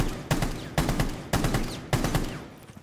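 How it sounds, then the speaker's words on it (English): Loud, close gunfire in Rainbow Six Siege from a weapon fitted with a flash hider, fired as four short, evenly spaced bursts of rapid shots. "if we try to do a burst fire here"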